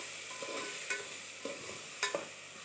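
Tomato stirred into a frying bajji mixture in a pan, a steady sizzle under repeated scraping strokes of a spoon, close and fairly loud with a few sharper clacks.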